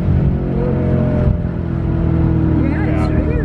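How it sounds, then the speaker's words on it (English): Deep exhaust rumble of a Mercedes-Benz AMG, a German performance car, revving steadily and loud up close for a few seconds, with people talking over it. "that like that deep engine sound, like it just lets you know everyone's there"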